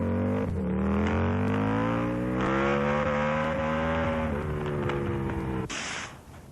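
A Britton motorcycle engine runs loudly and steadily on its first test run, its harmonic drone rising and wavering in pitch with throttle changes before ending abruptly in a burst of noise.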